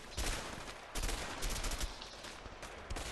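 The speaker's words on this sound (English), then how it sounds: "Someone shooting me from over here?" Bursts of rapid gunfire aimed at the player in the video game A Way Out, several clusters of sharp shots separated by brief gaps, fairly quiet in the mix.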